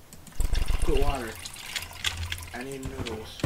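Water pouring into a pot in a horror video game: a trickling, splashing fill heard under a person talking over it.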